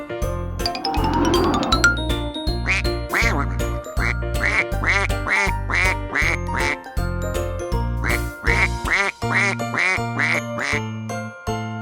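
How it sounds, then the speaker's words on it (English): Cartoon duck quacks in a kids' educational colors clip, repeated rhythmic quacks over a bouncy jingling music track with chimes. "Duck."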